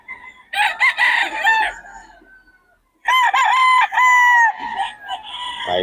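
Stag roosters, young gamecocks for sale at the Bocaue tiangge market, crow loudly and close by: one full crow, a short pause, then a second longer crow with another bird chiming in at the end.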